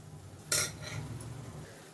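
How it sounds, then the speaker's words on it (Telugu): A spoon scrapes and clinks once against a pan while salt, turmeric, coriander and cumin powders are mixed into spinach. A soft stirring rasp follows, close and quiet, with no voices. "అన్నీ వేసుకున్న తర్వాత ఒకసారి మంచిగా మిక్స్ చేసేసుకుందాము"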